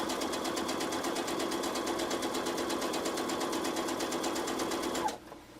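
A sewing machine stitches fabric appliqué in a steady, fast, even run of needle strokes, close and loud, then stops abruptly near the end.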